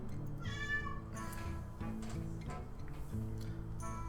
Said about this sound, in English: See, that's my cat. My cat's screaming, Brian, take me!